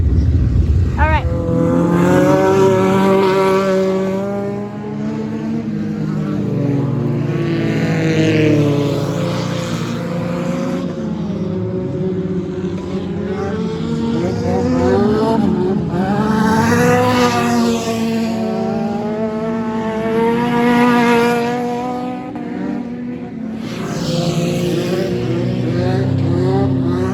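Race car engine at Hattiesburg Speedway on a hot lap, a loud sustained roar with rising and falling pitch sweeps as it accelerates and shifts, steady throughout with no talk over it.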